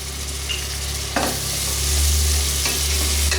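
Onions frying with ginger garlic paste in a pan, a loud continuous sizzle up close with scraping stirring strokes at intervals and no talk.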